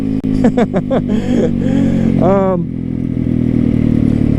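A Japanese motorcycle rides through quiet country neighborhoods, its engine droning loud and close throughout, with the rider's voice rising over it early on.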